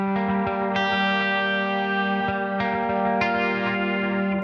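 An electric guitar played through a Sonicake Matribox II Pro on a clean preset, ringing chords with chorus-like shimmer and a trailing echo, no voice present.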